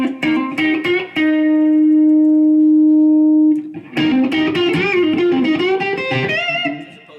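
Electric guitar played through a Blackstar amp's boost channel, lifting the tone with light drive rather than heavy distortion: a strummed chord rings out and sustains for a few seconds, then a busy run of picked notes follows, loud and close with no talking.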